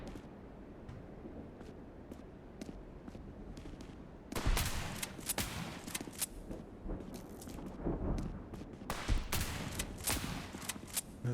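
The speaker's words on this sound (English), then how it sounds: "I threw a grenade at the ground!" A grenade explodes in a video game, with two loud, broad blasts a few seconds apart, each followed by dense crackling bursts like gunfire, and quieter clicks in between.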